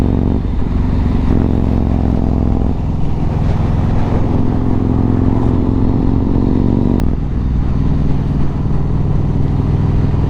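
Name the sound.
motorcycle engine while riding on the A358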